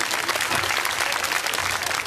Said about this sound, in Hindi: इनके लिए आप जोरदार ताली बजाइए।